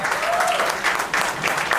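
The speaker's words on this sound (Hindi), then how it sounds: "उनके लिए जोरदार तालियां" Enthusiastic applause from a crowd at a Hindi film trailer launch, dense clapping that swells and continues throughout at a strong, even level.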